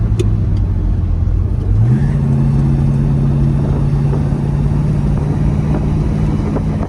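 A 1967 Pontiac GTO engine pulls away under steady acceleration, a loud, deep rumble that steps up in pitch about two seconds in and then holds a strong, even drone close by.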